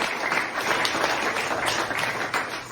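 An audience at a campaign launch event applauds steadily, a dense continuous wash of clapping throughout.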